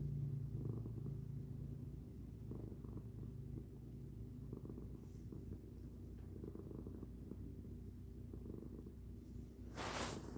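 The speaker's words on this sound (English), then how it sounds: "Ah, he's purring." A cat purrs softly and continuously close by, a low steady rumbling pulse that holds evenly throughout, with a brief brighter noise near the very end.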